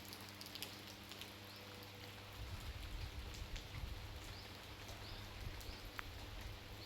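Faint rain falls steadily, with scattered drops ticking against surfaces over a low background hum in a built-up residential area.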